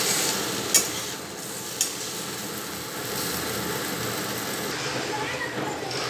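Raw papaya curry sizzles steadily in a pan, its soft, even frying hiss broken by a couple of sharp clicks of the utensil early on, with no clear voices.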